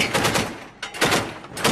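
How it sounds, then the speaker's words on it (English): Rapid bursts of machine gun fire from gunners aboard an armoured personnel carrier, shooting into surrounding bushes after a roadside bomb, loud and close in repeated volleys with brief gaps. "the gunners on the armoured personnel carrier that we're travelling in are shooting in the direction of the bushes all around"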